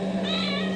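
A small cat at an animal shelter gives one short, steady tonal meow, close and clear, with no voices over it.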